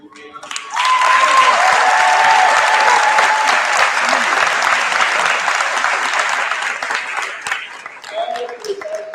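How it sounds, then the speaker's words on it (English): A graduation crowd at an agricultural sciences school commencement breaks into loud, sustained applause that swells quickly, holds for several seconds and fades, with voices audible toward the end. "a huge round of applause for your parents and your families."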